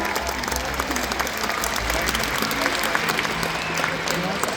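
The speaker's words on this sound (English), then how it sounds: "How about a round of applause for Cayuga and Tuar?" Audience at a SeaWorld San Antonio killer whale show applauding the orcas, a broad, continuous crowd clap with music and an announcer's voice mixed in.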